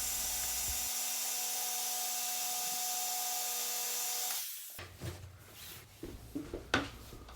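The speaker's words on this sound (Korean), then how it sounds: "목재 양쪽 끝부분은 직소로 디자인한 형태로 잘라줍니다." Jigsaw cutting the shaped ends of a wooden board for a sled seat, a loud steady whine that cuts off abruptly, followed by quieter scraping and handling noises.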